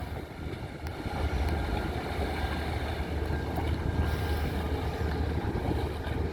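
Steady low engine drone of a twin-engine boat running on the water, with wind buffeting the microphone throughout; no one speaks.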